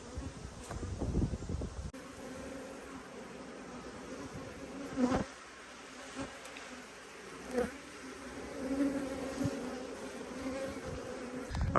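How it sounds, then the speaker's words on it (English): Honeybees buzz around beehives near a buckwheat field, a dense, continuous drone of many insects with individual bees swelling louder as they pass close by. "it is just full of bees"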